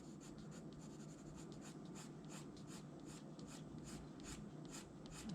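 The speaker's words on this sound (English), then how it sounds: "have all your pencil strokes come from like the center of the hand" Colored pencil strokes scratch across paper while coloring a drawing of King Ghidorah, a steady series of quick rhythmic rasping strokes, close and quiet.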